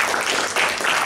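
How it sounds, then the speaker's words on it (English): A loud, dense burst of clapping from a Toastmasters meeting audience, close and continuous through its brief length. "With a big round of applause."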